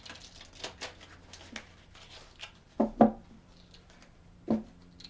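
A deck of tarot cards is shuffled by hand, giving a few soft, brief riffling flutters and taps spread over a few seconds, quiet and close with near silence between.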